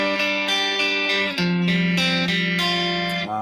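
A guitar plays a chord progression as picked arpeggios, with individual notes ringing into one another in a steady flow and a change of chord partway through, close and alone.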